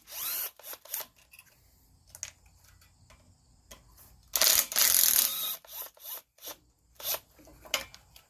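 A power tool undoes screws on the ignition coil of a Kohler engine. It runs in short, choppy bursts, with one longer spell of whirring near the middle, and clicks and rattles fill the gaps. No one speaks.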